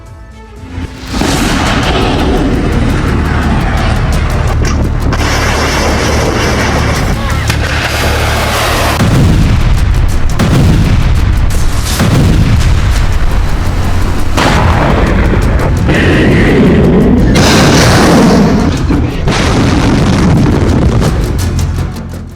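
ATACMS missile strikes on Russian military bases in Crimea set off a rapid series of loud, booming explosions and blasts, one after another, with sustained rumbling between them.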